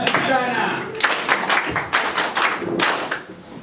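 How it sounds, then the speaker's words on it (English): Applause and clapping from a crowd at an Operation Wealth Creation campaign rally in East Acholi, Uganda, uneven bursts of claps and thuds that rise and fall in patches, mixed with voices and talk. "Can we give a big round of applause?"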